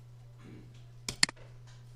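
Two or three quick, sharp computer mouse clicks land close together at a desk running Mastercam 2024 CAD software, set against a steady low hum and faint background noise.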